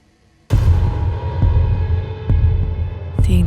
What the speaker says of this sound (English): Haley's heartbeat raced.